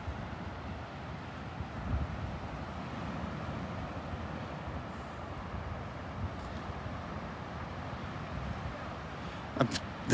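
Wind at Delnor-Wiggins beach on a morning walk makes a steady, low rumble that buffets the microphone. It is fairly faint and unbroken, and no voices are heard.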